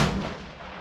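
A single 6 ARC rifle shot fired during ladder-test load development at a shooting range, a sharp, loud burst with a broad rumbling tail that slowly decays.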